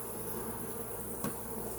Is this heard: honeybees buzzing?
yes